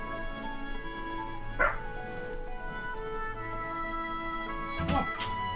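Dogs in the Arelith Neverwinter Nights video game give a few short sharp barks and yips, one early and a quick pair later, over a steady low musical hum.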